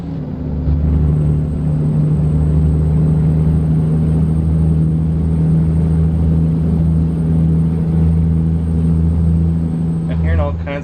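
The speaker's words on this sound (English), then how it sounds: "As I do yet a little bit more grinding through the gears." Heavy truck engine in American Truck Simulator drones steadily as a low, continuous rumble throughout, with a brief clatter near the end and speech-like activity mixed in.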